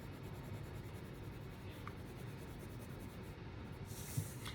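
A pencil shades on paper with hard pressure, giving a quiet, continuous scratchy rubbing close by, with one small tap near the end.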